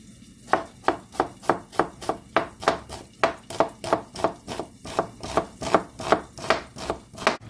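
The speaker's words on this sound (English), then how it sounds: "I have sliced up some onions finely." Onions sliced finely with a knife on a board, heard as a close, loud, steady run of about twenty regular chopping knocks with no voices.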